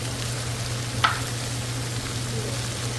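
Bacon, onions and butter frying together in a pan, a steady close sizzle with a low background hum and one brief clink of a utensil, with no talking.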